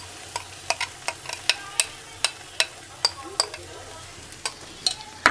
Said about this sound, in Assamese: এইখিনি অলপ টাইম ফ্ৰাই কৰিম ইয়াতে